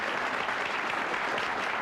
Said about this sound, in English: you can applaud them if you'd like